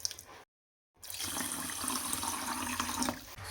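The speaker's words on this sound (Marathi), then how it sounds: "ह्याच्यामध्ये पण पाणी टाकून घेते." Water poured into a pot of rice with salt, a full rushing splash starting after a brief silence and continuing steadily, close and fairly loud, with no talking.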